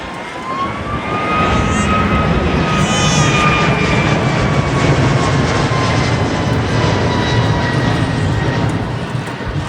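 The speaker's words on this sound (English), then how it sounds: "when they do apply takeoff power, that there won't be a noticeable increase in the noise." An airliner at an air show in Bray, Ireland applies takeoff power, its engines swelling into a loud, sustained roar with a gliding whine that holds steady and close for the whole stretch.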